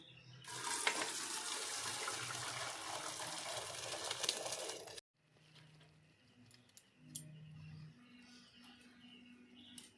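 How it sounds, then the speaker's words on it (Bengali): Cooked rice tipped out to drain, its water gushing and splashing loudly for about five seconds, then stopping abruptly and leaving faint drips, trickles and kitchen clatter behind. "এবার রাইসটা আমি ঢেলে নিচ্ছি"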